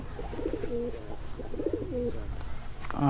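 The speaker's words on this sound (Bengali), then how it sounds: "এটা হচ্ছে সিলভারের নর লক্ষা কবুতর" A Lakka pigeon, a silver male, coos twice in a low, rolling phrase against steady background hiss, with a brief sharper sound at the very end.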